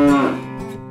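A single short, loud moo from a calf, close by, with a tonal start that fades and trails off, heard alone without any speech.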